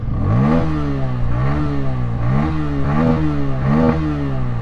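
A Bajaj Pulsar N160 motorcycle's exhaust revs repeatedly, four rising-and-falling throttle blips over a steady deep idle note, loud and close with no talking.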